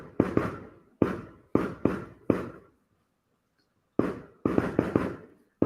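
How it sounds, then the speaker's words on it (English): Fireworks going off outdoors at night: a series of sharp loud bangs, some in quick double bursts, then a short pause before another cluster of rapid pops. "It's just fireworks."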